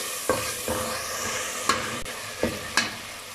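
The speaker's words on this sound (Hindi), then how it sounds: "अब इसमें टमाटर डालेंगे, मज़ीद 1 मिनट भून लेंगे" Tomatoes fry with ginger and garlic in a pan, giving a constant close sizzle broken by several sharp scraping strokes of a spoon stirring, with no talking.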